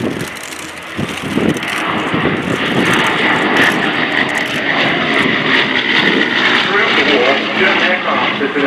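A Bristol Blenheim 1F, Canadian-built by Fairchild, roars past loudly with a sustained piston-engine drone during an airshow flypast at RIAT 2015, while a commentator talks over it.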